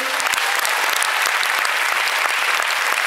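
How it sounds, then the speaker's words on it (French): A Cannes Film Festival audience applauds producer Viola Prestieri at a presentation of Euforia, with dense, steady clapping from a large crowd filling the room throughout, loud and sustained. "la productrice que je vous demande d'applaudir, Viola Prestieri"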